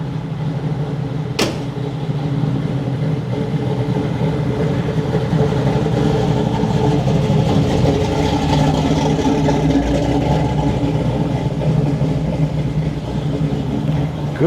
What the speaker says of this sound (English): Hearing this Z28 start up, hopefully get out and catch it going.